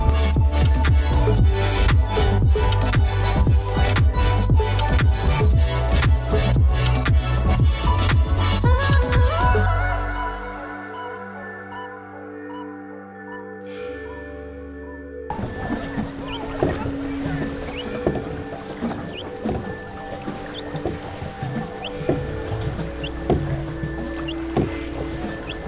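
A paddle works steadily through the water off Ksamil, Albania, with dense splashing and dripping strokes close to the microphone that ease off partway through before softer water and movement noise resumes.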